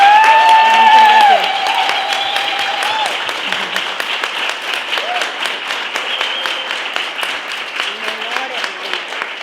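Audience applause welcoming Georgina Orellano to a panel talk in Valencia: dense, sustained clapping that swells loudly at first and then settles into steady applause, with a voice briefly speaking over the start.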